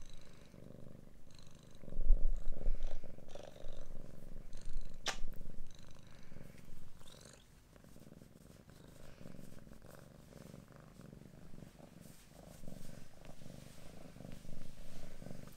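A cat purrs continuously up close, a low rumbling drone that swells and fades with its breathing, soft throughout with no talking.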